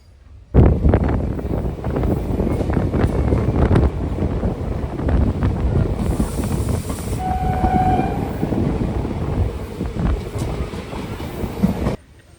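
Inside a general compartment of the Palakkad Town Express, a loud, steady rumble of wheels and wind rushes on, with a brief horn tone partway through.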